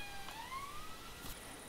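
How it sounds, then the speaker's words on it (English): A rising, wailing siren carries faintly across open countryside in the hunting game theHunter Classic, sounding alone for a brief moment. "Siren."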